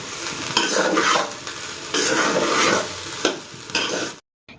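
Potatoes fry in a pan with a close, steady sizzle while a utensil stirs them in repeated scraping sweeps. The sound cuts off abruptly at the end.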